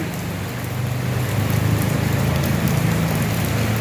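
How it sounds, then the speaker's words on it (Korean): Steady rain falls around a Chinese temple in Laos, a dense, even hiss with a low rumble underneath that swells slightly after the first second and holds alone without talk. "비 오는 날"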